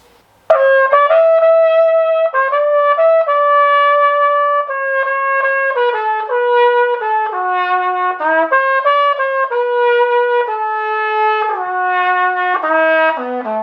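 A solo trumpet plays a clear, loud melody of sustained notes with noticeable vibrato, starting after a brief silence.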